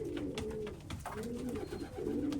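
A hen gamefowl vocalizes in a breeding pen, giving low, throaty coo-like calls that repeat in soft rolling phrases across the whole stretch, fairly close and steady with no talk over them.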